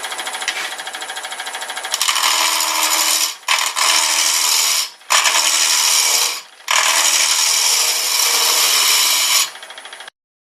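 A wood lathe turns the bottom of a staved ring, about 6¾ inches across, at roughly 800 RPM. The cutting whine is loud and steady, broken by a few brief pauses.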